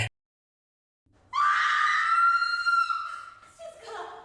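A girl screams in a bullying-themed horror film: after a second of silence, one loud, sustained high-pitched shriek rises and holds, then breaks into a shorter wavering cry at the end.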